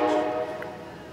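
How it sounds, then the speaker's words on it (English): A passing train sounds its horn in a loud, sustained blast that fades, with a low rumble of the rail cars beneath. "The train is late."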